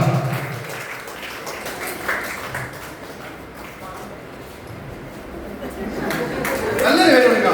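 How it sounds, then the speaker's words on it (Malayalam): Audience clapping at a stage event welcoming Mohan Sir, a steady wash of applause with crowd murmur that swells louder toward the end. "നല്ലൊരു കൈ കൊടുക്കാം. നല്ലൊരു കൈയടിയില്ലേ?"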